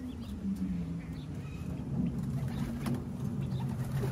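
A racing pigeon cooing at a loft, with low, steady murmuring calls that run throughout alongside soft rustling and faint background bird sounds.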